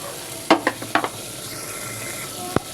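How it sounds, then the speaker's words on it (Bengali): Spices and salt being sautéed in a pan for a vegetable dish, with a soft background sizzle broken by several sharp clinks of a spoon against the pan, clustered early and one more near the end. "ভালোভাবে আমি কষিয়ে নেব।"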